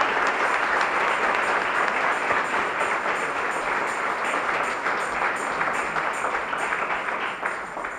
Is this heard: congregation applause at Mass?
yes